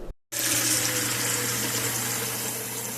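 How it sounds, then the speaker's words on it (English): Hot tap water runs steadily from a faucet into a container to thaw frozen beef, a loud continuous splashing rush that starts abruptly after a brief gap and holds alone throughout. "you're just going to add hot water right back into it"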